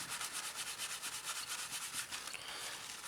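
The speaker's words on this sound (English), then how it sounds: "you just take cloth like this or whatever, just rub the top surface like that" Cloth rubs back and forth over the surface of a plastic 1/48 Airfix Boulton Paul Defiant Mk.I scale model, making close, quiet, rhythmic swishing strokes in a steady repeating pattern.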